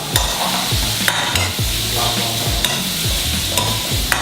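Bacon sizzles and crackles steadily in a hot pan while a utensil scrapes and stirs in repeated strokes, loud and close, with no talking.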